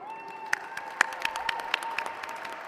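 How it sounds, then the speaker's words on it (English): Audience applause at the 2022 National Diversity Awards ceremony, a moderate crowd clapping in a dense irregular patter with a few sharper, louder claps standing out, steady and brief. "Please give yourself a big hand of applause."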